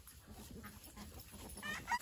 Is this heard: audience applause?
no